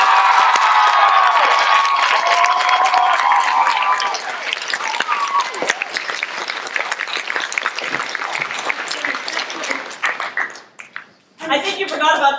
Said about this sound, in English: clap for our ventriloquist banker